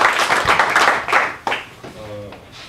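Applause at a book launch event for a Samsung Electronics worker's dismissal struggle, with a dense crowd clapping steadily for about a second and a half before fading, followed by talk.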